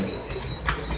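Pet store birds, with a pigeon- or dove-like coo and light chirps close by over a steady room hum.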